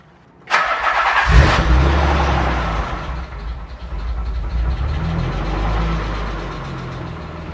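A Nissan RB26 engine swapped into a 300ZX cranks briefly and catches, settling into a loud, steady idle with a low rumble that holds to the end, with no talking.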